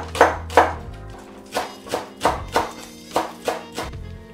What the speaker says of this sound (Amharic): ለዛም ደግሞ እዚህ ጋር ያዘጋጀሁት እሸት ነጭ ሽንኩርት አለኝ። እሱን እንደዚህ ከትፋለሁ።